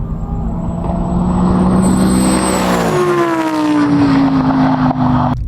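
A supercar launches hard with a little wheel spin, its engine roaring loud and close, pitch rising through the revs, then shifting and carrying on as a strong, steady drone, with no talk.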